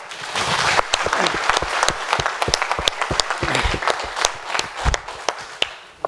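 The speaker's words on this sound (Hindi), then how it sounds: "एक बार जोर तालियां।" Loud applause from an audience at a first anniversary celebration event with a motivational speaker, dense clapping that fills the whole stretch with sharp individual claps standing out, no talk over it.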